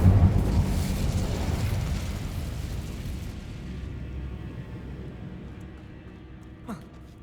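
An Incendio fire spell in Hogwarts Legacy erupts as a loud, close, roaring burst that slowly dies away over several seconds, ending with a faint brief chirp.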